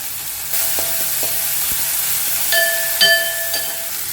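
Chopped ripe tomato frying in a hot pan, a steady close sizzle and hiss with a few sharp clinks of a utensil against the pan.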